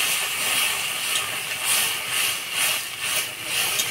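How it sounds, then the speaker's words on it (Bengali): Water poured into a hot pan of fried greens and fish roe sets off a steady, loud sizzling hiss that holds for several seconds with gentle surges and no talk. "এবার পরিমাণ মতো জল দিয়ে দেবো।"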